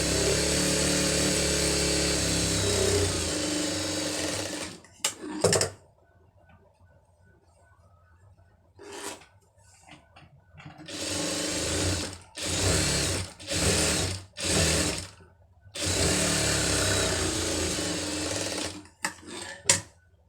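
A sewing machine stitches fabric in loud, close bursts of rapid mechanical whirring, one long run, then several short starts and stops with quiet pauses, and a final long run.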